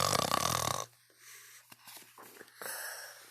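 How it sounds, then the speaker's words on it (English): A cartoon character snores in a children's counting story: after a loud opening burst, soft, rasping snore-like breaths and snorts follow, faint and uneven, with a louder wheezy breath near the end. "Stop snoring, Bernard."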